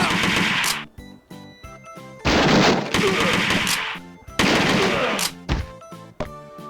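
Rifle and machine-gun fire from a Sega arcade shooter crackles in loud repeated bursts, with sustained rattling volleys broken by brief pauses and heavy thunks, with no talk.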